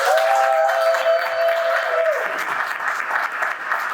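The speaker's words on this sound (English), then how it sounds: "I'd like for everyone to give an applause for PNC Bank and Northwest Bank." An audience at a women entrepreneurs' summit applauds, a dense, loud burst of clapping that fades out after a couple of seconds while a faint tone hums underneath.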